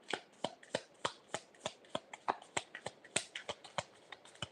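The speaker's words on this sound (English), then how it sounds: "That's feeling like a better shuffle." Tarot cards being shuffled in quick, crisp riffling bursts, about twenty sharp flutters in steady rhythm, close and fairly quiet with no voices.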